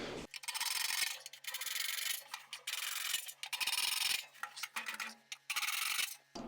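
Holes are reamed with a power tool during installation of a Decked CargoGlide 2,200 truck-bed slide, giving a loud, harsh grinding whir that runs in repeated bursts of a second or so with short pauses, close up and without talk.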